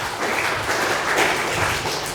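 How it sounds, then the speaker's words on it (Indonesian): A church congregation claps together for Jesus during a sermon, a brief, dense burst of steady applause filling the room. "Kasih tepuk tangan untuk Tuhan Yesus."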